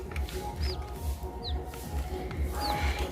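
Hens cluck softly in the background amid low farmyard rumble, with a few short high chirps from chicks or small birds scattered throughout.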